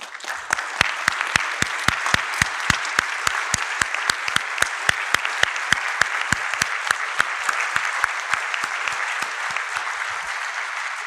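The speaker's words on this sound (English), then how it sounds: "maybe quickly stand up so that you can receive your applause" Volunteers at the IEEE VIS 2022 closing ceremony receive a conference audience's applause, with sharp, evenly spaced claps standing out over a dense, steady wash of clapping that holds for about ten seconds before thinning out at the end.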